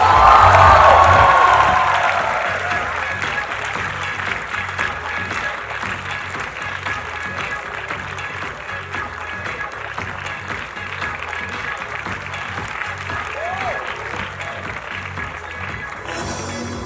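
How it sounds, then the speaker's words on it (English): A large festival audience at the Umang Festival 2016 stage show applauds and cheers as a guest walks on, with loud whoops at first settling into a long, steady wash of crowd clapping and chatter. "with a huge round of applause, please welcome on stage, Mrs. Jaya Bachchan!"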